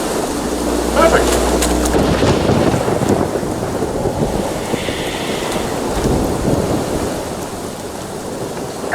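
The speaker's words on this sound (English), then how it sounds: "Shitty weather, waves, wind, darkness." Stormy weather in The Witcher 3: a heavy rumble of thunder rolls in at the start over steady rain, wind and surf, with the wash of rain and wind continuing loudly throughout.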